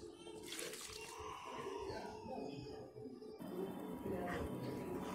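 Water is poured into a pan of freshly ground masala paste for a country chicken curry, a continuous splashing trickle heard up close, with a voice speaking faintly in the background.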